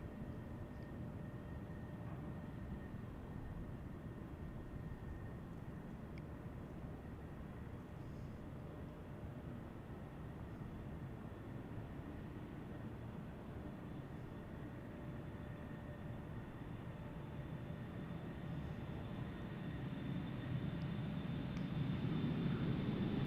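A steady low jet engine roar from a SkyWest regional airliner on the runway at Tucson International Airport, holding constant then swelling louder near the end as it powers up for takeoff.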